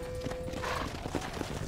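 Horse hooves clip-clopping in the Western video game Red Dead Redemption: a steady stream of hoof beats under a bed of game ambience and music, with no speech.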